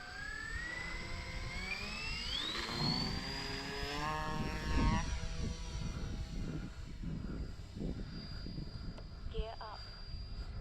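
A Dynam Grand Cruiser V2 RC model airplane flies on its maiden flight, its electric motor whining and changing pitch as it passes at a distance, with someone talking over it.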